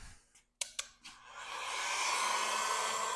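Heat gun blasting hot air onto vinyl wrap over a car fender corner, a few sharp clicks first, then a steady rising whoosh that holds loud and close to the end.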